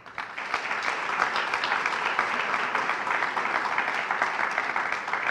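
Sustained audience applause fills a university State of the University address, a dense, steady wash of many hands clapping at an even level throughout, with no voices rising above it.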